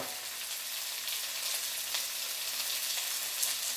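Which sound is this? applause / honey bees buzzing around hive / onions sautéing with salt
onions sautéing with salt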